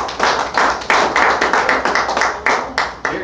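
A round of applause at a political talk, made of a few distinct, loud, close hand claps in a steady, uneven rhythm rather than a dense crowd roar.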